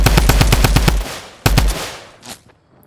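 Tommy gun fire in Fortnite: a rapid burst of about nine loud automatic shots, a pause, then one more sharp shot trailing into a fading echo and quiet.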